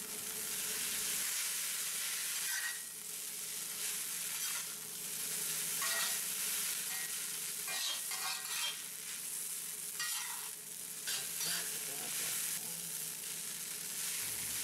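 Ramen noodles stir-fried in a pan with ground ginger, giving a steady loud sizzle with repeated scraping stir strokes throughout, close and continuous with no talking.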